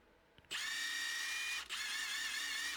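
A Milwaukee cordless impact wrench with a mode fault whirring loudly and steadily, with a brief dip in the middle before it resumes at the same high-pitched whine.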